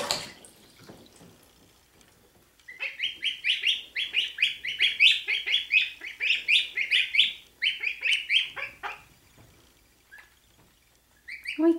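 Week-old goslings playing in a bathtub give rapid, high, continuous peeping in bursts, close and clear, with splashing and dripping water around them and stretches of quieter water sounds before and after.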